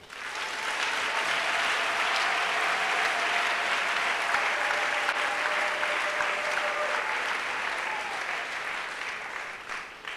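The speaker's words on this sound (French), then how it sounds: "Acclame pour Jésus." A congregation at a prayer night applauds for Jesus, a loud, steady wash of many hands clapping that holds for about ten seconds before tapering slightly at the end.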